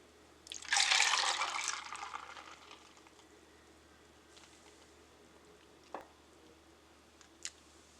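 Heavy cream pours into a mix of milk, a brief liquid rush that swells and fades over a couple of seconds, followed by quiet gaps and a couple of small clinks.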